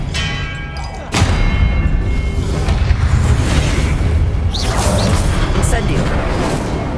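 Spell combat in the Hogwarts Legacy video game, with an Expelliarmus cast landing as a heavy boom at about one second, followed by sustained loud rumbling blasts and whooshing magic effects.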